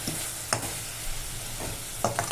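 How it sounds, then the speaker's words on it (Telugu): Tomato paste sizzles and fries in a pan for fish curry, with steady close crackling and a few clattering stirs of a spoon or spatula against the vessel. "టమాటా పేస్ట్ కూడా ఇట్లా వేగండి"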